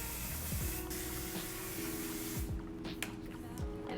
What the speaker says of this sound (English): Take your hairspray now, and we're just gonna kill it.